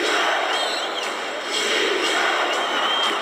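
A packed basketball arena crowd roars without pause at a Lakers vs Blazers Game 7 in the 2000 Western Conference Finals, a loud, dense, steady din that fills the whole clip.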